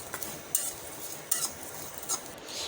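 Dried fish (shutki) dry-roasting in a pan without oil, with soft intermittent scraping and a few sharp clinks of a utensil against the pan at a close, quiet level.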